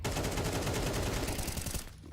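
Gunfire in a competitive Counter-Strike-style match rattles in a fast, dense burst of rapid shots heard up close for about two seconds, then cuts off abruptly, with no voices.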